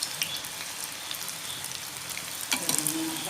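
Sukhiyan, a Kerala street snack, fries in a pan with a steady close sizzle, then a burst of louder crackling and spattering near the end as it is tossed.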